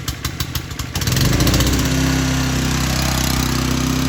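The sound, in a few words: Holmatro hydraulic rescue tool petrol pump engine starting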